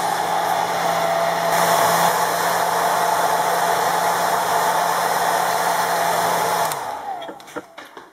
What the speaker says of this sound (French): Ou soit que tu ressors ton sèche-cheveux.